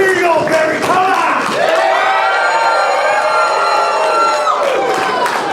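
A wrestling crowd at an indie show roars and cheers loudly, with shouts and a sustained chanting tone swelling across the clip, dense and close with no clear speech.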